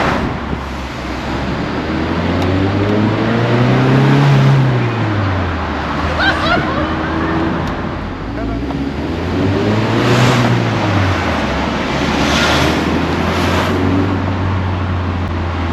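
An MG F roadster's engine droning while driving, rising and falling through gear changes with rushing wind and road noise around it, steady and fairly loud.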